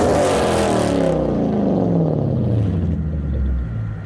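A 1990s car with a Toyota 1UZ V8 engine runs with a smooth, low rumble that drops in pitch and fades slightly as it passes, no voices over it.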